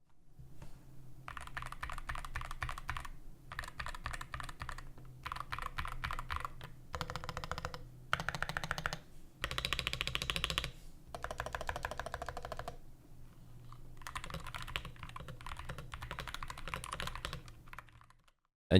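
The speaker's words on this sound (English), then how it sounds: "now let's do a sound test of the Muse65 so that you guys can get an idea of what this keyboard sounds like" Varmilo Muse65 Hall effect keyboard being typed on in bursts of rapid keystrokes, close and quiet, with short pauses between runs.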